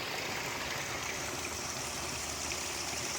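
A hidden creek in Saskatchewan trickles and flows steadily nearby, a soft, even rush of water with no voices and no breaks.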